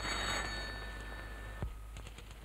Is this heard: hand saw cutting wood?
no